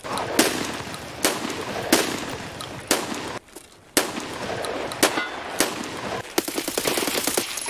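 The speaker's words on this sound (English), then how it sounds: "He hit me with the fucking mounted gun too" Mounted machine gun fire in Escape From Tarkov, a series of sharp loud bursts and rapid shots with brief gaps, ending in a sustained rattling volley.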